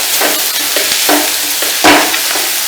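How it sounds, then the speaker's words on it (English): Spicy paneer bhurji with masala sizzles steadily in a pan while a spoon stirs it, giving a continuous bright frying hiss broken by several short scraping strokes at an uneven rhythm. "I'm going to give it a stir now."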